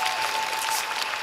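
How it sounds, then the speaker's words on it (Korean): An outdoor crowd at a film festival stage greeting in Busan claps steadily for an actor, brief, dense applause with a faint tone above it. "큰 박수 한번 부탁드리도록 하겠습니다"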